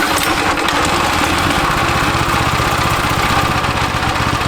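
A cheap 15HP engine bought from Temu, intended for a go-kart, runs at a steady, loud, close drone with a dense mechanical chatter and no pauses or talking.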